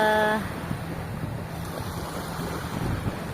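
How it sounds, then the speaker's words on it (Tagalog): Surf at Kapipisa Beach rolls in as a steady broadband wash with wind buffeting the microphone, swelling slightly louder toward the end; a brief tonal hum sounds at the very start. "Palakas ng palakas ang alon."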